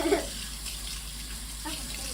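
Hot water runs from a kitchen tap in a steady, soft splashing stream that lasts the whole brief moment.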